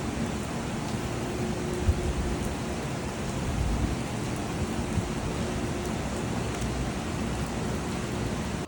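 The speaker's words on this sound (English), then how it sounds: "it is pouring rain" Heavy pouring rain beside an uncovered train platform, a dense, steady hiss that stays close and unbroken throughout, with no talking.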